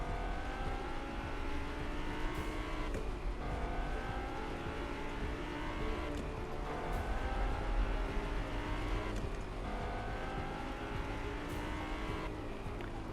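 A car in a Gotham City racing video game drives around a race course, its engine revving and droning with repeated shifts and occasional tire noise, steady and fairly quiet with no talking.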